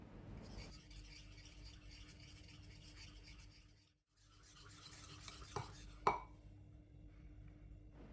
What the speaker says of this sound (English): Mix, mix, mix.